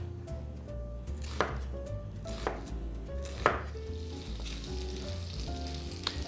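A knife chops an onion into wedges on a board, giving several distinct, spaced, sharp cuts over a steady background sizzle of frying.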